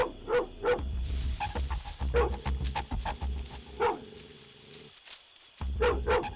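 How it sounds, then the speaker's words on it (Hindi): A dog barks repeatedly in short bursts, fairly close and loud, with a low rumbling background underneath and a brief quiet gap near the end. "वो भी मुझे ही देखकर किस तरह से भौंक रहा है"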